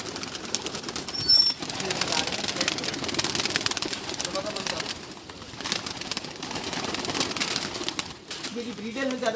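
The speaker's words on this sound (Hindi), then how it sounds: "ये जी प्रवासी कबूतर हैं" Migratory pigeons cooing and flapping their wings in a busy outdoor spot, with a continuous wash of bird noise and a few louder wingbeat bursts, while people talk faintly underneath.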